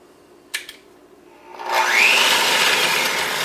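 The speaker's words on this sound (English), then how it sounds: "I'll grab my mixer." An electric hand mixer starts up after a couple of brief clicks and then whirs steadily and loudly, mixing chocolate cake batter made with vegetable oil.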